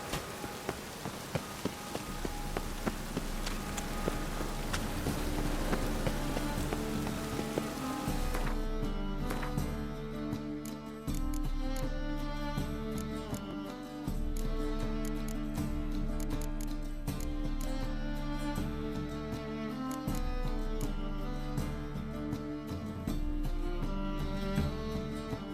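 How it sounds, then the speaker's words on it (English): Steady rain falls in the Skellige setting of the video game Witcher 3, a continuous patter on surfaces heard beneath game music and ambience, with a denser, noisier opening stretch that thins out after several seconds. "Witches have conjured rain."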